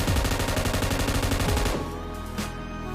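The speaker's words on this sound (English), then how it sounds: "You can actually shoot from BRDM vehicle." Full-auto gunfire from inside a BRDM armored vehicle in PUBG, a loud rapid rattle of shots for nearly two seconds that then cuts off, leaving quieter vehicle rumble.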